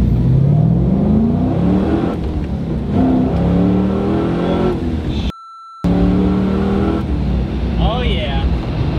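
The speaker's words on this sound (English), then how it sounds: "I'm just gonna try laying into first, try to go full throttle" LS-swapped BMW E30 accelerating hard at full throttle in first gear, engine note rising steadily through the revs, loud and close from inside the car with a brief dropout midway and a faint chirp near the end.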